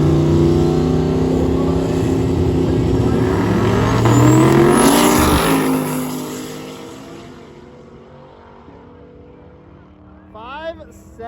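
Corvette C8 and a caged race car launching in a drag race, loud engine roar and revving building then fading into the distance as they run down the strip, with a small whine near the end.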